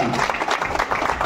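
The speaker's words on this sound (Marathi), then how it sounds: "या सर्व देणगीदारांसाठी जोरदार टाळ्या होत्या." A crowd claps for donors at a community gathering, in a short burst of dense, fairly close applause.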